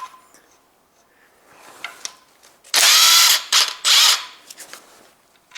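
A power tool with a socket bit spins out bolts on a Toyota 1.8 2ZZ-GE VVTL-i engine's timing chain cover, two loud whirring bursts after quieter ratcheting clicks and taps, close by.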